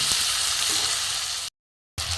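Onion and chopped chicken frying in a pan for a hot dog filling, a loud, steady close sizzle that briefly cuts to silence and then resumes.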